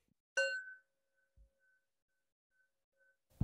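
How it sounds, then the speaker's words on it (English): A single meditation bell strikes once, a bright ringing tone that decays quickly and then lingers faintly in near silence. "when you go to ring a bell, it says, oh, that's not a voice"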